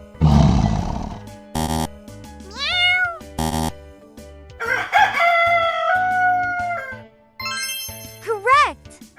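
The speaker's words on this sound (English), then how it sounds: "Roosters crow to announce the start of a new day" A rooster crows in several rising and falling harmonic calls, including one long drawn-out crow. They are mixed with short buzzy tones and other animal-like cries, and the sound is loud and close.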